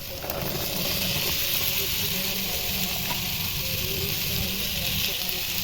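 Cut potatoes dropped into hot oil with fried spices for ghugni, giving a steady, loud, dense sizzle that holds evenly throughout with no talking over it.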